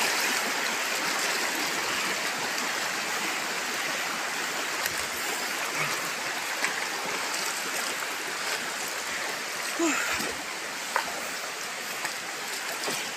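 River water flowing steadily at close range, a constant broadband rush with small splashes and no voices.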